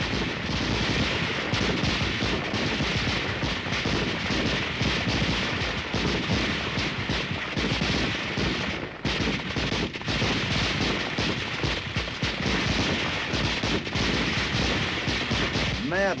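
Heavy US Army weapons fire loudly in a sustained firepower demonstration by a standard American division, with dense overlapping bursts of machine-gun and rifle shots and booming reports rolling continuously throughout.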